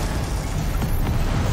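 A Confringo blasting spell explodes during a Hogwarts Legacy battle, a loud, dense, sustained roar of broadband noise that fills the whole moment without any clear gaps.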